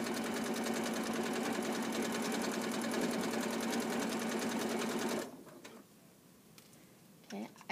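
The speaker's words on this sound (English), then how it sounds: "I'm just sewing a straight line all the way around" A sewing machine stitches a straight line around a shorts hem, whirring loud and steady with rapid rhythmic ticking for about five seconds before stopping, followed by faint fabric handling.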